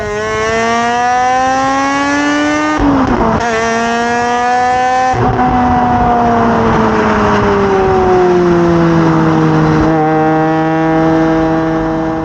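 Bridge-ported Mazda RX-8 rotary engine revving hard and loud, with sustained high-pitched harmonic tones climbing and falling through several rev sweeps and brief dips between, no talking.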